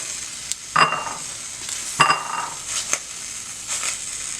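Peppers, tomatoes and garlic roast in a pan and are moved around, giving a quiet sizzle broken by a few sharp clinks and scrapes against the pan.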